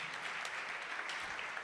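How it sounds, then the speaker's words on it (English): A quiz audience applauding with steady, dense clapping throughout, no voices standing out. "Give yourselves a round of applause."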